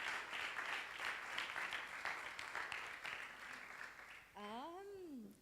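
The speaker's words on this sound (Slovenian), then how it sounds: "Hvala za en aplavz." Faint, distant applause from a press-conference audience for the musical Vesna fades gradually, and a voice begins speaking at the end.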